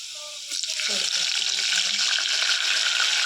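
Garlic frying in hot oil for a dal tempering: a voice speaks briefly at the start, then a steady, close hiss of sizzling oil fills the rest of the clip.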